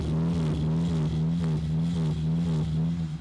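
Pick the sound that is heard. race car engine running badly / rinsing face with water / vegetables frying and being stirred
race car engine running badly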